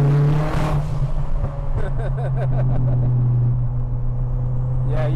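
502bhp Ford Fiesta ST150 roaring under hard acceleration, with a loud, gritty engine note rising and stepping through revs for several seconds, heard from inside the car with a passenger's excited voice over it.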